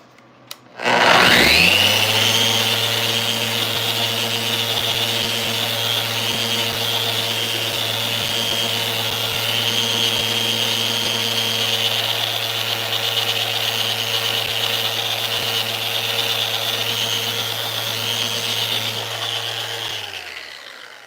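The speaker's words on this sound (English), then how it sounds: "We've got our 80 grit sandpaper in regular mode. Let's see what happens." A power sander fitted with 80 grit sandpaper running on wood panels for a table saw cart, starting abruptly and holding a steady loud whine and hum for about twenty seconds before stopping, with no speech.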